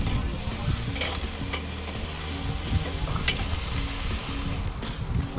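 Pork steaks sizzle loudly and steadily on a Weber kettle grill right after being flipped, a close, dense frying crackle with scattered small pops and no talking.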